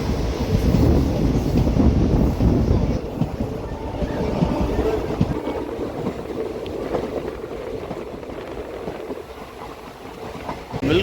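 A Coimbatore to Madurai Intercity Express passenger train rumbles along steadily with rhythmic clattering of wheels on rails and wind noise, continuous and close.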